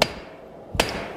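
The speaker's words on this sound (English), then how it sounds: "Wow, that just fights you when you're trying to hammer it." Hand hammer blows on a hot 32mm British-made high-speed steel end mill during forging, two sharp loud metallic strikes, one at the start and another about 0.8 seconds later, with quiet ringing between.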